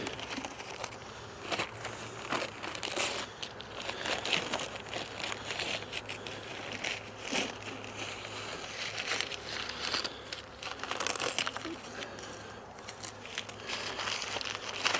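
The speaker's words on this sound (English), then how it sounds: "take this piece of paper off the hive" Steady crinkling and crackling of paper being torn and peeled off a beehive, continuous and close throughout, with no one speaking.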